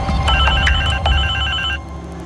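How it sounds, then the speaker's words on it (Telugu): An unanswered home telephone rings close and loud in repeated electronic trill bursts, with no voices over it, until the ringing cuts off near the end. "ఇంట్లో అంతమంది ఉంటారు ఫోన్ తీయడానికి ఒక్కరు కూడా రాలేట్రా"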